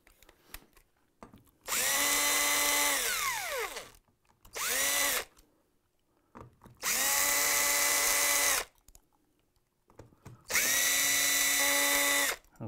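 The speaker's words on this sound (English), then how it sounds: "now we take the hinge off" A power drill backs the screws out of a door hinge in four loud bursts, each winding up to a steady whine. One burst slows and its pitch drops as it stops, and there are quiet gaps between them.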